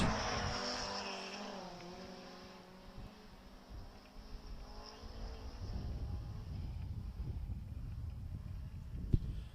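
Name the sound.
hill climb race car driving into the stage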